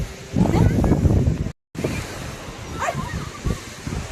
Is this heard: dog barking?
yes